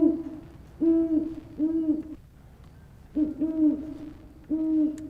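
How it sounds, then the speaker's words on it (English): An owl sound effect gives four hoots in two evenly spaced pairs, clear and moderately loud against a quiet background. "Owl sound, maybe?"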